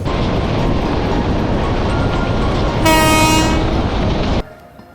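A train running from Dhaka to Jamalpur, a loud continuous rumble of wheels on rails heard up close, joined midway by a long blaring horn before the noise suddenly drops away.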